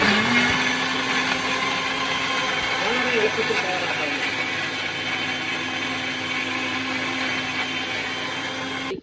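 A mixer grinder blends orange and carrot with lemon and water in a jar, running as a loud, steady motor whine with a constant hum that cuts off sharply at the end.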